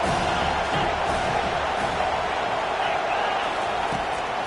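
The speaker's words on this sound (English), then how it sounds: "As the crowd gets behind this defense." Stadium crowd cheering at a football game in College Football 25, a steady, dense roar of many voices that holds evenly throughout with no commentary heard.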